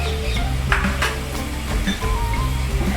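Onions hit a hot pan for an Indo-Chinese hot sweet and sour vegetable dish, giving a steady close sizzle with a few faint utensil clinks and no talking.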